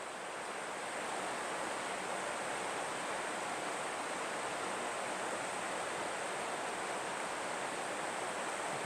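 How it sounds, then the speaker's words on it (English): A river flows right below a hotel near the Great Smoky Mountains in Cherokee, giving a steady, unbroken rushing hiss of water that stays even and continuous throughout with no voices. "It's right along a river here."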